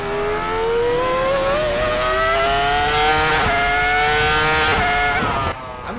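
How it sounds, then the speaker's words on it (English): A loud, high-pitched V10 engine in a Formula 1 car at Monza screams near the listener, its pitch climbing then dropping in quick stepped blips as it downshifts. "And the downshifts are amazing too."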